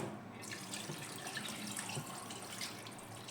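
Cooled marinade poured over bream in a container, a steady close splashing stream of liquid running continuously without pause.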